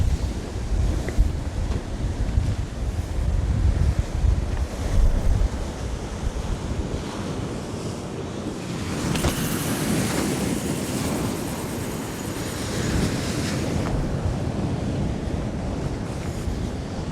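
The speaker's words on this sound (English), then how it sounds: "I have to watch for any of these rogue waves." Sea waves breaking along a rocky Northumberland shore, a continuous wash of surf with wind buffeting the microphone and a louder surge partway through, no one speaking.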